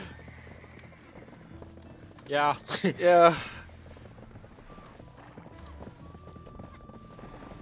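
In the online game Black Desert, during a horse race, a horse lets out a brief, loud whinny partway through over a quiet, faint background, with a person's short remarks and laughter nearby.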